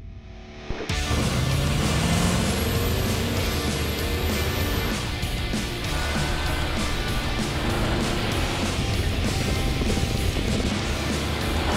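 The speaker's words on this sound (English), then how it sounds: "The drivers will push the pedal to the floor and not let up until the vehicle crosses the finish line." Pickup trucks towing 7,000-pound trailers run full throttle uphill on Davis Dam Road, a steady, dense engine roar held at constant loudness throughout, with wind buffeting and no speech.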